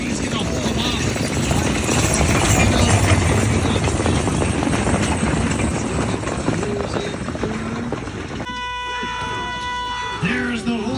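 Horses trotting in a harness race at a racetrack with a steady rhythmic clip-clop of hooves under a continuous announcer's voice and crowd noise, followed by a loud horn blast near the end.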